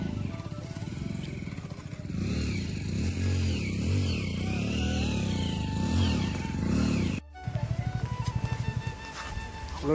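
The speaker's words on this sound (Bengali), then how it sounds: "আর একটা বাইক এখন পেছনে আছে" A motorcycle climbs a zigzag hill road in the Ajodhya Hills of Purulia, its engine loud and close, rising and falling in repeated revs and swells, with a short break before it picks up again.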